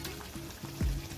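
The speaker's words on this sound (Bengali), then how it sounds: "মাছ ভাজা হচ্ছে" Turmeric-coated fish sizzles in hot oil in a home kitchen during a festive family meal, a soft steady crackle with one louder spatter near the end.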